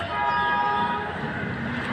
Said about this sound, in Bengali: ট্রেনের হর্ন শোনা যাচ্ছে।